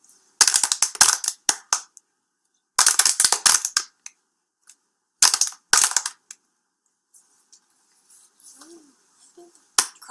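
Several people clap their hands in short bursts of quick claps, separated by silent pauses, in a clap-and-wait rhythm game, followed by faint talk and a single clap at the end.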